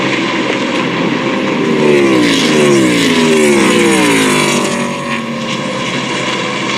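A race car engine roars loudly at the 2002 Pocono 500, its pitch sweeping up and down with gear shifts. The sound is continuous and close.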